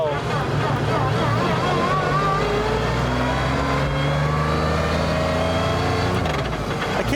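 A Mercedes-Benz CLK GTR hypercar drives on a public road, its engine droning and revving up through changing pitch steadily and close, with people talking over it inside the cabin.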